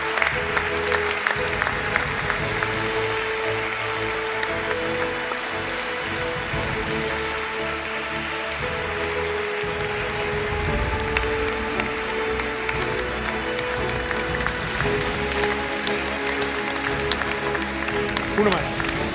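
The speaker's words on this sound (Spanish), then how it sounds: "Aplauso fuerte para ellos." At a national canoeing gala, a hall audience gives long, steady applause with scattered cheers, a continuous crackle of clapping lasting nearly twenty seconds, while music and voices carry underneath.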